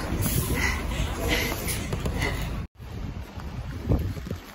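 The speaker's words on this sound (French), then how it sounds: "Et il y a du vent." Gusty wind blows across a microphone outdoors on a rainy city street, a steady broadband rumble that runs throughout with a brief dropout near the middle, while someone talks over it.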